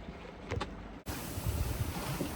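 Steady broadband wind rush over a sailboat at sea as a brief squall passes through, with water wash beneath; a short dropout interrupts before the gusty roar resumes, constant and close to the microphone.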